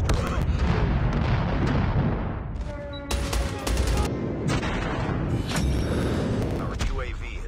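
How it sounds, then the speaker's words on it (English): Airstrike explosions in a video game, a dense rumbling barrage of booms and crackling blasts with several sharp impacts, loud and continuous throughout, mixed with game voice callouts. "Airstrike incoming."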